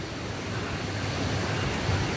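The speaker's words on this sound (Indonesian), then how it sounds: "Itu dia air terjunnya, sudah kelihatan." Grojogan Sewu waterfall rushing, a constant broadband roar of falling water heard close and steady throughout, with no talk over it.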